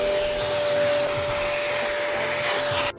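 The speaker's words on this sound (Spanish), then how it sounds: "Cuando terminas pasando la aspiradora sobre la cama" A vacuum cleaner passes over a bed to pick up bedbugs and their eggs, giving a loud, steady, close whine with a constant tonal hum that cuts off abruptly just before the end.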